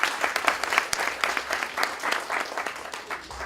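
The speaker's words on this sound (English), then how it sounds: "You can give a round of applause to them." A room full of people claps for a team of trainers at a storytelling session, steady, fairly loud applause with a few sharper individual claps standing out, filling the whole moment without any talking.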